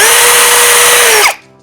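A Litheli U20 20V brushless drill driver runs at a steady, loud high-pitched whine, then spins down abruptly near the end.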